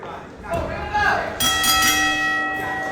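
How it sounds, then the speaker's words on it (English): A ring bell clangs to open a professional wrestling match at a Coastal Championship Wrestling show in Pompano, Florida, with a few sharp ringing strikes and sustained metallic tones over crowd noise and commentary. "There's the bell."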